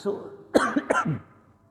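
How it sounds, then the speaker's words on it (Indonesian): A man coughs a few times in quick succession, clearing his throat during a religious lecture, close to the microphone with speech around the coughs. "Kalau saya sudah batuk begini tandanya nggak boleh lama-lama"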